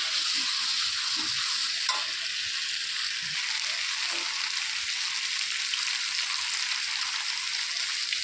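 Masala sizzles in a hot pan while a spoon stirs and scrapes through it, a steady close frying hiss with scattered soft knocks and no voices.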